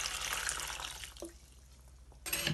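Hot boiled water poured into a pot of maize meal while cooking sadza, a splashing liquid rush that fades into quieter trickling, then surges again loudly at the end.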